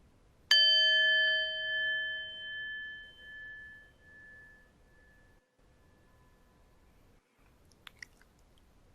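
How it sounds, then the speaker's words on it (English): A mindfulness bell struck once, ringing out with a clear, sustained tone that slowly fades over several seconds into near silence, followed by a few faint small sounds. "orient ourselves to hearing the sound of the bell"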